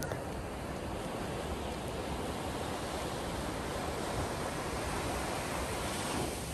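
Ocean surf breaks continuously on Copacabana beach in Rio de Janeiro, a dense, loud, unbroken wash of crashing water with wind noise on the microphone and no clear talk.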